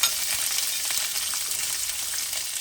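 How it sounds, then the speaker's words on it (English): Chopped onion hitting very hot oil for a Fiji-style dry goat curry, a loud, steady, close sizzle and crackle that holds at full strength throughout with no voices. "So now what I'll do is I'll add in my onion."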